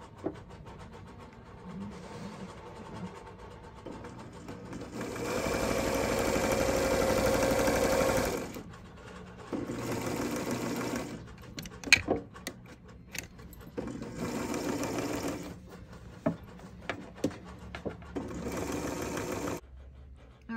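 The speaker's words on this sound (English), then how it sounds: "you will finish sewing that together" A sewing machine stitches a bench pillow, whirring in bursts of a few seconds at a time between pauses with small clicks and handling sounds, close and clear.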